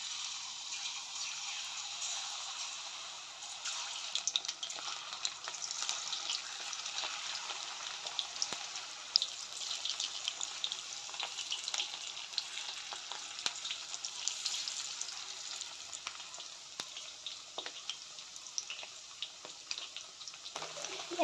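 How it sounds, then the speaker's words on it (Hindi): Mushrooms frying in hot oil in a kadai, a steady soft crackling sizzle that holds throughout with small pops and stirring clatter, no talk. "कड़ाई रे तेल पकई गरम कर मुना से मशरूम गुड़ा सब गुड़ा को पकई नेमु।"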